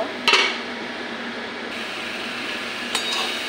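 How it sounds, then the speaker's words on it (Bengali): A lid is set on a cooking pot of star fruit chutney, giving a sharp metallic clink near the start and a second lighter clink near the end over a steady low kitchen hiss. "ঢাকনাটা দিয়ে দেব।"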